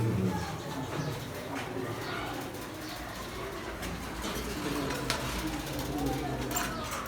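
Pigeons of a punky generation coo softly inside a pigeon loft on a family farm, low murmuring calls blending with rustling and shuffling while someone talks over them.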